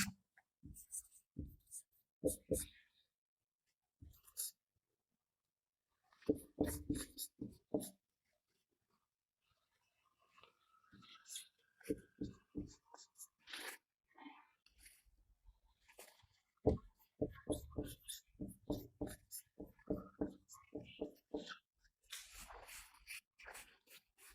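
Marker or chalk strokes on a board as prime factors are written out in a maths lesson, bursts of short scratchy taps and squeaks separated by pauses, close and moderately quiet.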